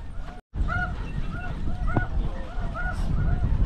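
Canada geese flying in during a windy hunt, a flock's honks calling repeatedly at moderate distance over gusty wind noise.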